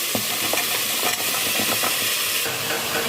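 Vegetables added to chicken frying lightly in chicken sauce, a dense loud hiss and sizzle with quick scraping stirs close by, no speech.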